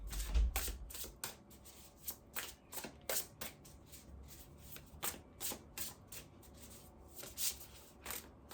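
Tarot cards being shuffled by hand, repeated soft riffling and slapping bursts at a quick irregular pace, close and quiet with no talk.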